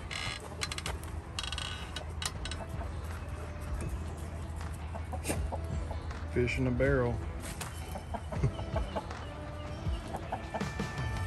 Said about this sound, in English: now the chickens can come and eat right beside the dogs